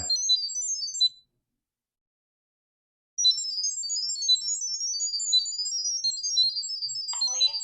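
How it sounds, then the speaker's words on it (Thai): A smartphone plays its pairing sound while setting up a Sonoff IP camera over 2.4 GHz Wi-Fi: rapid, high, chirping beeps in a warbling data-like burst. They stop for about two seconds, then return in a long steady stream. "โทรศัพท์ก็จะส่งเสียงออกมา"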